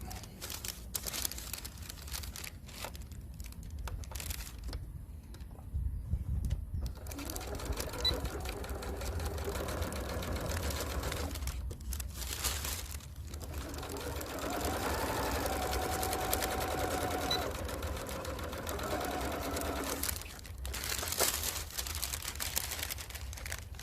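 Sewing machine stitching a seam on a lightweight tarpaulin cape, its motor whirring in several long runs separated by short pauses, close and steady with handling noises between bursts.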